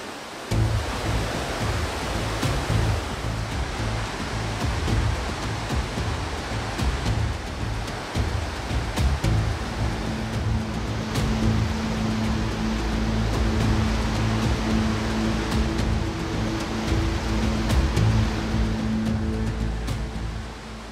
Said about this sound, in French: ce sont les chutes les plus grandes de l'Asie du Sud-Est